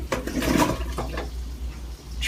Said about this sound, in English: I'm going to flip this filtered water back on